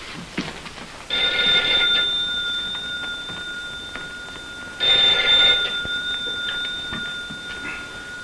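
An old-fashioned telephone bell rings in two long bursts separated by a pause, clear and fairly close, in a radio drama.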